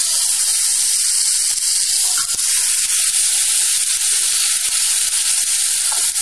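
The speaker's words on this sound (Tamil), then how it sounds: "2 நிமிஷம் போல் வதக்கிட்டு தக்காளியை சேர்த்துடலாம்." Tomatoes sauté with pepper and cumin in a pan for betel leaf rasam, giving a loud, steady, close sizzle and hiss that runs without a break.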